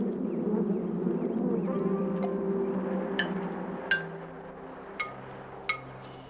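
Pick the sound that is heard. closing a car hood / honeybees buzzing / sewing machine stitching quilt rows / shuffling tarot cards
honeybees buzzing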